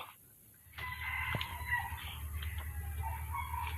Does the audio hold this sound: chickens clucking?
yes